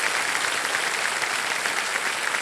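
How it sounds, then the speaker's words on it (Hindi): Dense, steady applause fills a television quiz show studio, a thick continuous wash of many hands clapping at close range with no gaps. "सारे जोरदार तालियां बज जाए।"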